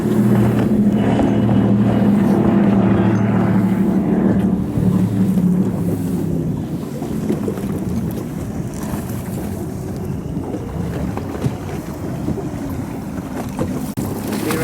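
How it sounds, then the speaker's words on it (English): A racing powerboat in the Cowes–Torquay race roars past with a loud, steady engine drone and heavy wind noise, the pitch shifting as it passes close by. "there's a boat approaching very fast"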